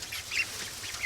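Ducks quack briefly near a chicken tractor on a farm, faint calls over a low background rumble.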